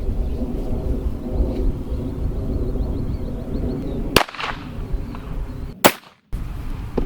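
Gunshots from a .22 Ruger fired at body armor outdoors, two sharp loud cracks a couple of seconds apart over steady wind noise.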